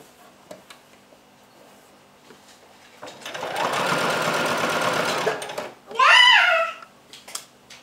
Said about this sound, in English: So yes, I'm just going to go around and sew all 4 sides.